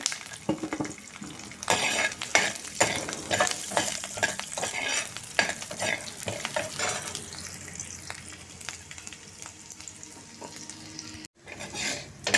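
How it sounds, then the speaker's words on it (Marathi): Garlic frying in a pan for a curry leaf chutney makes a continuous crackling sizzle with frequent spoon stirs and scrapes against the pan, steady and close, easing slightly toward the end. "तर त्यामध्येच मी ही लसूण परतून घेते."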